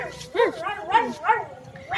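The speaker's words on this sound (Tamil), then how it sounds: "சவுண்டு கேட்குதுங்க நாய் ஊழ விடுற மாதிரி இருக்குது" A dog howls outdoors near a dry, leafless tree, with a series of drawn-out rising and falling wails at moderate loudness.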